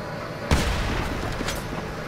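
Gunfire in GTA 5 Online during a sawmill deathmatch: one sharp, loud shot bursts out, followed by a rumbling tail and a few fainter distant cracks.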